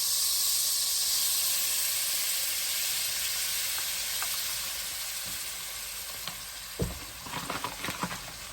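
Plain flour added to melted butter for a cheese sauce roux, giving a broad, steady close sizzle and hiss that eases off, followed by a few scraping and knocking sounds of stirring at the end.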